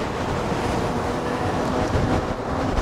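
Strong, gusty wind roars steadily into the microphone during a ride on a Lectric XPeak e-bike in California, loud and broadband with no talking.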